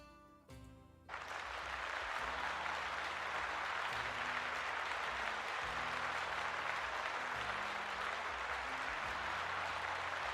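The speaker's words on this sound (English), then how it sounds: "let's give Mood a little round of applause." A room full of people breaks into sustained clapping that holds steady and dense for about nine seconds after a brief spoken moment at the start.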